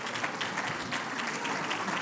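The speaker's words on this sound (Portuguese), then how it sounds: "Peço-vos então uma salva de palmas para Miguel Poiares Maduro" Conference audience applauding a speaker about to join remotely, a steady dense patter of many hands clapping at moderate distance, unbroken for the whole stretch.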